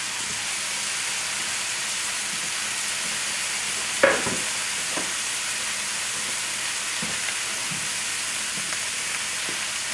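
Onion and garlic sauté in a pan for dairy-free creamy spinach soup, giving a steady, even sizzle and hiss throughout, with one sharp utensil knock and a few faint stirring scrapes.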